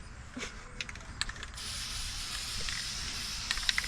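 An aerosol can of spray paint, sprayed onto grass outdoors, hisses in short bursts at first, then sprays in one long continuous hiss, close by, with small clicks and rattles.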